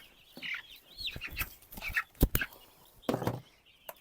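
A young broiler chicken clucks in short, irregular bursts while being held close up in a quiet rural setting, with a few sharper peeps and handling noises between the calls.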